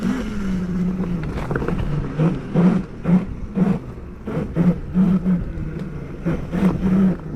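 A 72V electric pit bike converted from gas, ridden off-road up a hill, with the motor whining and pulsing in uneven surges against wind and rough ground noise, close and fairly loud.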